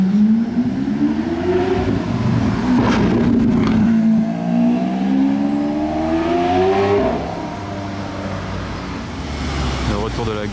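A Lamborghini Aventador SV Swarovski engine revs loudly in a street setting, its pitch swooping up and down in sweeping pulls over traffic noise before easing off toward the end.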